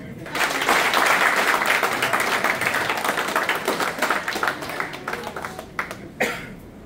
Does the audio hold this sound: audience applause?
yes